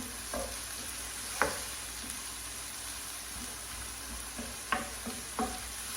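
Spices with a cracked cardamom pod sizzle in a hot pan for butter chicken, with a steady low frying hiss and a few sharp scraping stirs of a spoon against the pan, close and alone.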